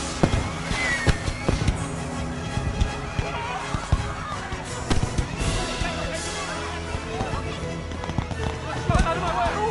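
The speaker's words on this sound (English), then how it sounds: "Look out! Bad CGI rockets!" CGI rockets streak and explode in a scene from the 2010 film Yogi Bear, with a dense barrage of whooshes and bursting blasts piling up continuously over a busy soundtrack.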